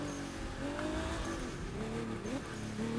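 A Nissan Skyline High Octane Edition in the racing game The Crew 2 revs steadily, its engine tone rising and falling through gear changes at moderate level, a continuous droning whine with no talk over it.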